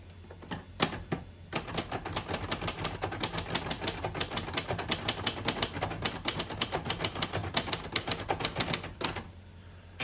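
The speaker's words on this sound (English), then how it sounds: "Very nice typing machine." Rapid, steady keystrokes on a 1979 Royal Sabre portable typewriter clatter on for several seconds, crisp and close, with a brief pause near the start and a sharper strike at the end.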